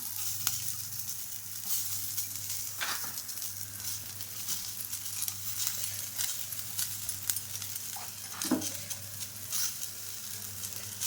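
Onions sizzle steadily in hot oil, a continuous bright hiss with occasional soft crackles and scrapes of a wooden spatula stirring.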